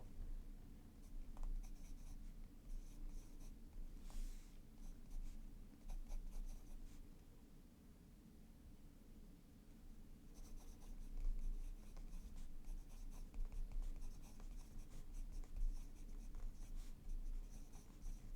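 A Pilot fountain pen with a medium stock nib writing on paper, soft scratchy strokes with short pauses, very quiet and close, with no voices.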